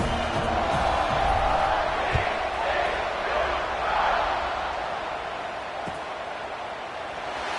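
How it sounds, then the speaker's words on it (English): A football stadium crowd buzzes with a dense, steady roar after a touchdown at a TCU versus Indiana game, sustained and loud throughout with scattered shouts rising from the mass. "this crowd is buzzing after that last score"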